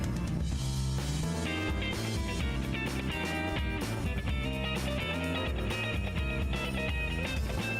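Live album version of a Gran Turismo 3 track plays loud and dense, with driving drums, bass and layered instruments pushing a harder, band-style arrangement throughout.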